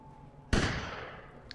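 A single sharp gunshot-like blast rings out in Resident Evil Village, a sudden loud broadband crack followed by a decaying echo tail, with a faint quieter click near the end; no speech.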